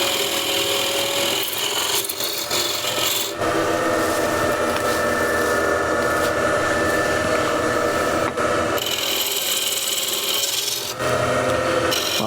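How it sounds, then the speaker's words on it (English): A ball gouge cuts wood on a spinning lathe while turning a cross-grain box, a loud continuous rasping, hissing scrape that shifts in tone as the cut changes, with no talk. "Again, I'm using ball gouge here."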